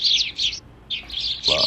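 House sparrows chirp in short bursts of bright, high twittering, with a brief pause in the middle and a louder chirp at the end, played back from a video.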